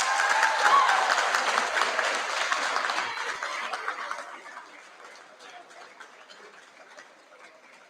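Applause from a school audience at a Year 11 prize giving assembly, a dense crowd clapping that is strongest at the start and then gradually thins and fades, with no one speaking over it.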